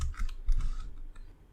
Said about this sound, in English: declare this state variable as constant by typing constant.